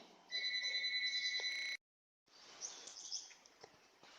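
A telephone rings in a workshop during a small-block Chevy 406 engine build, a steady electronic trill of rapid pulses lasting over a second, then stopping, followed by faint shop rustling and clatter.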